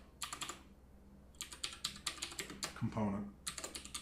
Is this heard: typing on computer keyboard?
yes